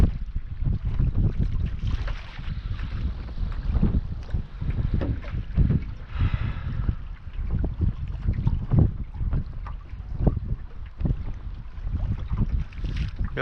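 Wind buffeting the microphone while fishing from a boat on open water, a constant low rumbling roar with gusty surges and faint lapping water, carrying on without pause.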